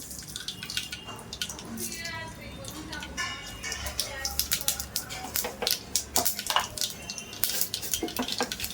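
Oil tempered with mustard seeds in a pan for spinach amti gives sharp, irregular crackles and pops that grow busier toward the end, while someone talks over them.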